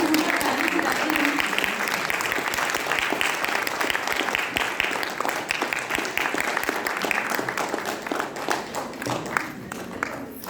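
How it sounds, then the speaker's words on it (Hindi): Loud, sustained applause from an audience at a cultural performance by blind artists, dense clapping filling the room steadily and easing slightly near the end. "इनकी हौसला अफजाई करने के लिए जोरदार ताली बजाते हैं।"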